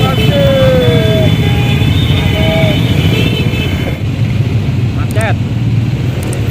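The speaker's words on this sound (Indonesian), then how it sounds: "Macet." Heavy traffic jam on an Indonesian road during the Lebaran homecoming: a steady, loud rumble of idling car and motorcycle engines fills the scene, with occasional brief horn-like tones and faint voices nearby.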